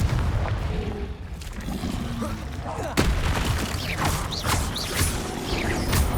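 Spells such as Confringo and Incendio are cast in Hogwarts Legacy, each landing in bursts of booming, crackling blasts, with a sharp impact near the middle and whooshing magic effects layered over the ongoing game combat.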